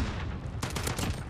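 Rapid automatic FAL rifle gunfire in the shooter game Call of Duty Modern Warfare, a dense continuous burst of overlapping shots with a sharper cluster of cracks near the end, loud and close with no talk.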